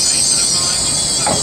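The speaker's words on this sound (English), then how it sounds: "train is now approaching onto platform 4" A Class 801 train rolls into platform 4 at Peterborough with a steady loud rumble and a high, sustained wheel squeal, plus a brief rising sound near the end.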